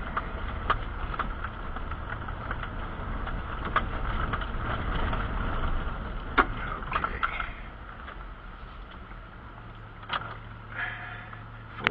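A vehicle in four-wheel drive climbs a grade up toward a mountain cabin, its engine a steady, fairly close broadband rumble held throughout, with a few sharp clicks and knocks from the vehicle over it.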